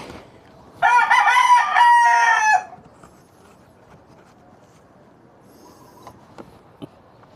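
A rooster crows once, loud and close, a drawn-out call lasting about two seconds, followed by quiet with a few faint knocks.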